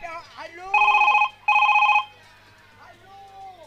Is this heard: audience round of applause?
no